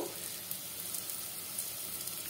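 Soaked moong dal sizzling in a hot pan, a steady, even crackle of frying that holds for a couple of seconds with no voices.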